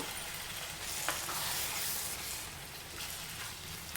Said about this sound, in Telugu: కొంచెమే కారాన్ని వేసుకొని ఒకసారి మిక్స్ చేసుకుందాం.